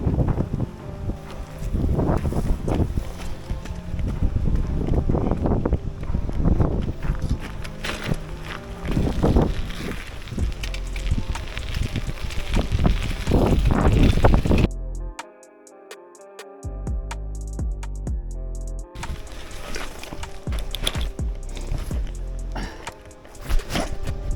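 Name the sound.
wind blowing by the sea in Lauttasaari, Helsinki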